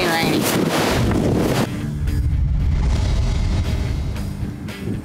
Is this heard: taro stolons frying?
no